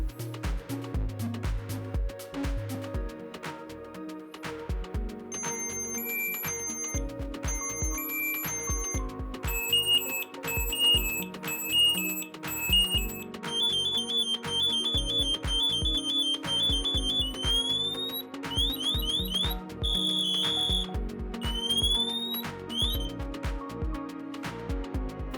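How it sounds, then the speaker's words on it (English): Dräger AirBoss Sentinel PASS alarm on breathing apparatus, a repeating electronic pre-alarm chirp pattern escalating into a loud, rapid, shrill full alarm with rising sweeping tones, steady and continuous. "The pre-alarm will start and sound for another approximately 12 to 13 seconds. The full alarm will activate"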